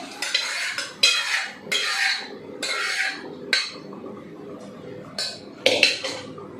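A spoon stirs cooked green gram into a pot of payasam, giving repeated close scraping and clinking strokes against the vessel in bursts with short pauses.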